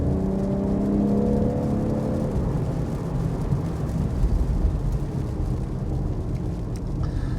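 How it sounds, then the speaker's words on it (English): BMW M3 Competition xDrive accelerating on a rain-soaked track, a steady loud engine roar with broadband road and spray noise, rising in pitch early and then holding a continuous droning pull with no talking. "Roll onto the throttle again."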